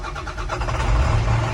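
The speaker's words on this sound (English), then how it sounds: "Now I can start my engine" A Class B truck's engine cranks and catches, then settles into a steady, loud, close idle rumble with no voices over it.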